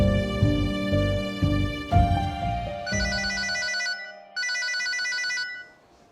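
A phone ringtone plays loudly and close, starting as a melodic tune and then turning into two sustained trilling rings with a short gap between them.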